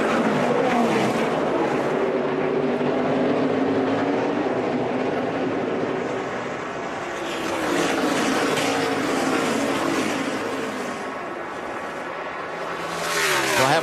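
NASCAR race cars at speed on a road course, a continuous loud roar of engines that swells and fades as cars pass, surging again at the end.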